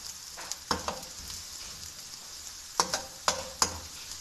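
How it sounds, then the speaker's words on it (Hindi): Onion frying in oil in a pan, a faint continuous sizzle broken by several sharp clicks and scrapes of stirring. "उसी ऑयल में अब हमने ये अपना ऑनियन शामिल किया है, इसे हम लाइट ब्राउन कर लेंगे"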